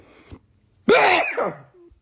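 A single loud, close sneeze bursts out after a brief pause, with a short intake of breath beforehand.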